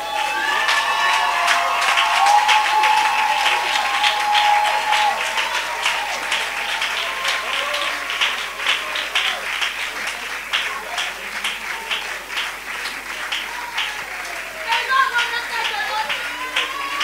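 A standing church congregation claps and cheers in acclaim of Jesus, a loud, steady wash of applause with voices shouting over it throughout, swelling briefly near the end.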